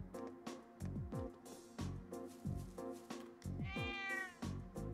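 A cat in the video game Trails of Cold Steel meows repeatedly, several short distinct meows in a steady rhythm, close and clear with a longer drawn-out cry near the end, no talking.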